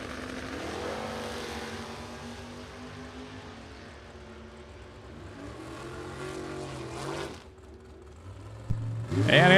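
A 1991 Chevrolet Camaro drag race car launching at a Super Pro drag race. The engine roars and sweeps upward, eases off mid-run, then ends in a loud close burst.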